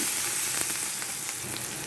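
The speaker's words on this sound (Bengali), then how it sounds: "এটাকে আমি সুন্দর করে হালকা বাদামি রং আসা পর্যন্ত ভেজে নেব।" Sliced onions with a pinch of salt fry in oil toward light brown, giving a close, even crackling sizzle throughout the short stretch.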